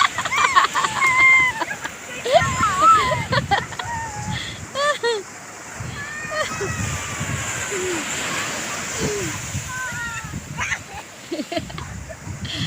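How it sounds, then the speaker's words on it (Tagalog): Strong sea waves wash and splash onto a beach in a steady broadband rush, mostly heard beneath close, lively talking voices. "Oh, malakas yung alon oh."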